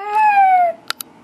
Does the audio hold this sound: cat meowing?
yes